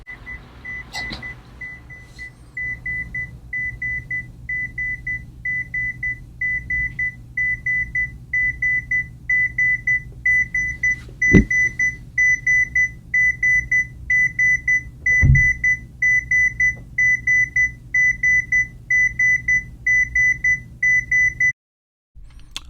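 Emerson SmartSet alarm clock sounding its alarm: a steady train of short, evenly spaced electronic beeps repeating for about twenty seconds, loud and close, over low room hum, with a couple of handling knocks before it cuts off.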